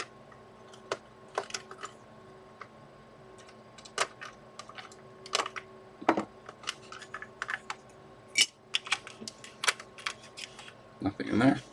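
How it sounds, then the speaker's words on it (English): Sharp plastic clicks from the power switches of a Huina 1568 articulated dump truck toy being taken apart, a dozen or so close, irregular snaps over a quiet background. "Nice clicky power switches."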